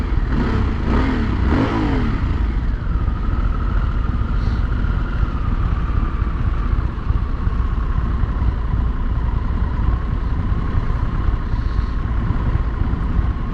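A 2023 Harley-Davidson Sportster S motorcycle on a test ride, its engine climbing in pitch as it accelerates, then holding a steady, close rumble under light throttle through a corner.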